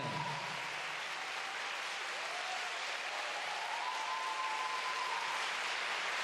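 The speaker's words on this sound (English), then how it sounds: "it's appreciative of the applause here and the support" An arena crowd at a figure skating championship in Tallinn applauds a male skater after his free skate, a continuous wash of clapping from many people, even and sustained, with a faint whistle-like tone drifting through it.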